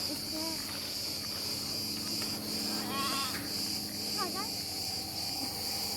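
A lamb in a rural village near Muğla gives a few short, wavering bleats at intervals over a constant chirring of crickets.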